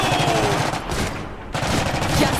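Loud, rapid machine gun fire in the Iron Harvest video game rattles in dense bursts with a short lull in the middle.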